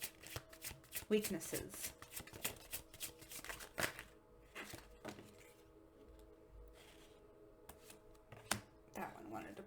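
Tarot cards are shuffled and drawn in a series of quick, crisp riffles and slaps, fairly close and soft, with pauses between bursts while a person talks over them.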